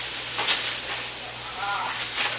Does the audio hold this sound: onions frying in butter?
yes